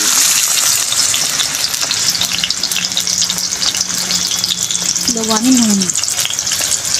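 Chopped tomato frying in a mustard seed and dried red chili tempering, a steady broad sizzle through the whole stretch with a voice speaking briefly over it near the end.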